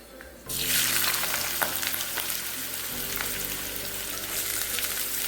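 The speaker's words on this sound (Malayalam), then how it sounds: "ഉള്ളിയും തക്കാളിയും എല്ലാം ഒന്നിച്ചിടുവാണ്" After a quiet moment, onions and tomatoes drop into hot coconut oil for egg-tomato curry and a loud bright sizzle bursts up, then continues steadily with crackles, close up and without speech.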